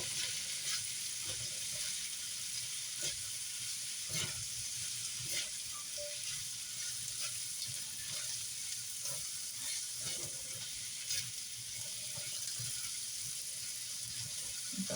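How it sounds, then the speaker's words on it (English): Ginger and garlic fry in a pan for shrimp fried rice, giving a constant bright sizzle with occasional stirring scrapes and soft pops throughout. "I'm going to add the ginger and the garlic."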